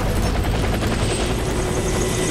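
A helicopter in the video game Warface gives off a steady, loud, dense rotor and engine roar that holds unbroken throughout, with no speech over it.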